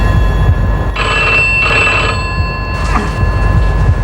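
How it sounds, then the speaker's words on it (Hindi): A home telephone rings at night in two clear bursts of electronic bell tones, followed by a shorter third ring, loud and close over a low background hum. "घर पहुंचते ही फोन का बजना शुरू"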